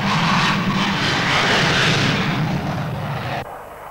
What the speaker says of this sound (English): The de Havilland Comet, the world's first jet airliner.